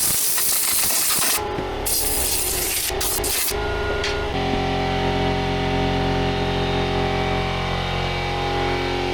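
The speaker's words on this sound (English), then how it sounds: "I'm going to grab the air compressor now and just kind of blow it around there" Air compressor nozzle blasting compressed air to clear oil, loud harsh hissing bursts with short gaps, then a steady continuous rush of air, close and without talk.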